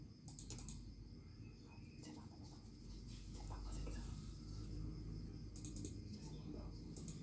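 Soft, close computer keyboard typing in short bursts at the start and end, entering a DNS address during router setup, over a steady low background hum.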